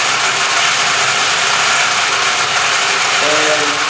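A homemade grain mill runs steadily, a close, continuous grinding whir with a dense rattling texture and no pauses, with no talking over it.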